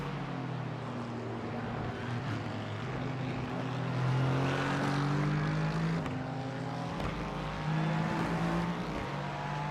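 Cadillac race car in the iRacing sim roars continuously at close range, its engine note climbing and falling through gear changes with a steady, loud drone and no talking.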